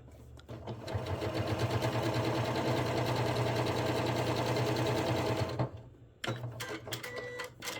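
A sewing machine running a steady rapid stitch on a notebook cover, loud and close for about five seconds, then stopping with a few short clicks and brief bursts of handling.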